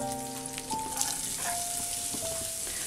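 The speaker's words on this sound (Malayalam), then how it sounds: "ഇതിപ്പോൾ നന്നായിട്ടൊന്ന് തിളച്ചിട്ടുണ്ട്" Mutton stock bubbles and simmers in a pan for a Delhi-style mutton Jahangiri, a soft continuous seething with scattered pops and spits, close and fairly quiet, with faint tonal hum running underneath.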